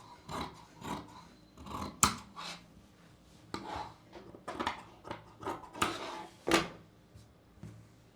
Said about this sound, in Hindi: यहाँ से थोड़ा मैं ऐसे कट कर रही हूँ ताकि मेरे दोनों पार्ट इक्वल आ जाए।